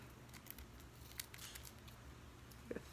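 Scissors snip through a thin strip of medical tape, a few quiet crisp clicks and short cutting sounds spread over a faint, low-level background.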